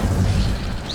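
A fire spell bursts in the video game Hogwarts Legacy, giving a single loud, low booming whoosh that fades over about a second, with no talking.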